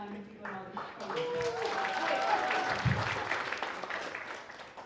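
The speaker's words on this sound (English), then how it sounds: "Thanks for the round of applause" Applause from an audience at a panel discussion on generative AI, a moderate spread of clapping that builds and then tapers, with a speaker's voice running over it.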